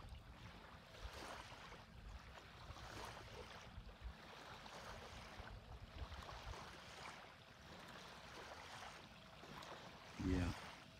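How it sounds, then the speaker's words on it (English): Soft, steady wash of waves rolling onto a Massachusetts shore at close range, rising and falling gently, with a brief low knock near the end. "And listen to them waves."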